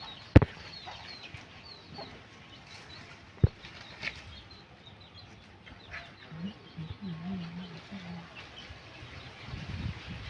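A hen clucks softly a few times amid quiet outdoor background near coconut trees, with a couple of sharp knocks early on.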